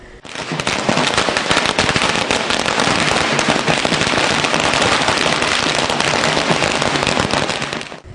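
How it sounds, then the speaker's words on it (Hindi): Dense, rapid crackling bursts of firecrackers and fireworks explode continuously and loudly at a political celebration in Indore, India, an unbroken barrage lasting several seconds. "उनके समर्थकों और भाजपा कार्यकर्ताओं ने राजबाड़ा पर आतिशबाजी की।"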